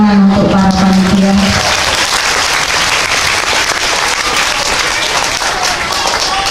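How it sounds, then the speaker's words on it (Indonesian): Loud, dense audience applause for the festival committee at a night talent festival in an Islamic boarding school, sustained clapping from a large crowd with a brief tone and voice at the start. "Tepuk tangan untuk para panitia."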